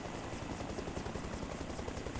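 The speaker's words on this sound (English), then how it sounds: "We should see the helicopter start to rise up." Steady, close helicopter rotor thrum and engine drone from the Arma Reforger video game, continuous and unbroken with no talk.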